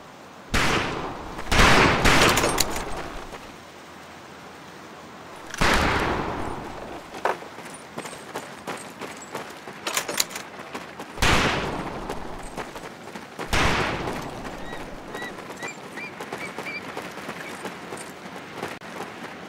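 Rifles fire at a shooting range in the video game Medal of Honor: Pacific Assault, with several loud volleys of gunfire that crack and then fade, spaced a few seconds apart.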